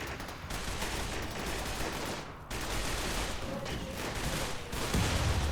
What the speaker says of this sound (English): now can I nail a micro missile in that group?